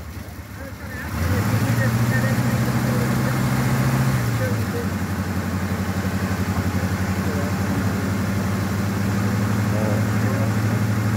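A 1952 Mercury car engine under restoration cranks and then catches, settling into a steady, loud, close idle with a low rumbling drone that carries on through the rest of the clip.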